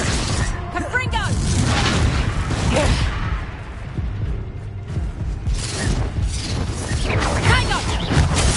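A Confringo fire spell explodes in Hogwarts Legacy, a booming blast with crackling, rumbling tail that repeats across the span, loud and mixed under a shouting player's voice.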